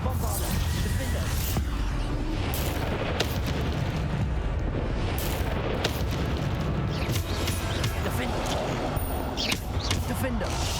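The Bombarda explosion spell is cast repeatedly during a fight in Hogwarts Legacy, giving dense, continuous booming blasts and bursts with a player talking over the action.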